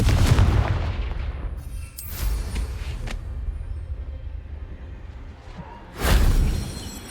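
A Confringo blasting spell in the Hogwarts Legacy video game goes off with booming explosive bursts and whooshes, a heavy blast at the start and another around six seconds, with rumbling game noise between.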